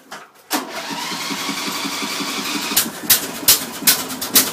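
A cold tractor engine turns over and fires after a brief pause, then chugs in a rough, uneven rhythm at low throttle, with sharp knocks and sputters toward the end.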